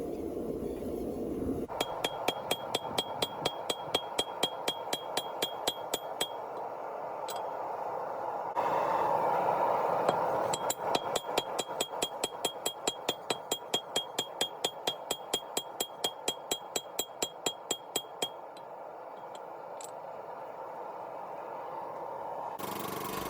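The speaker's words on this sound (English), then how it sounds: "All I have to do now is just hit it with my hammer." A hammer strikes a hot steel billet for Damascus steel in a rapid, steady series of sharp ringing clanks, with a brief pause midway, over a constant roaring forge hiss.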